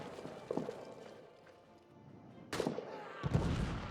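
Artillery shell exploding nearby in a WWI trench video game: a sharp, loud broadband blast followed by a second heavy, rumbling impact with debris, set against earlier softer battlefield thuds.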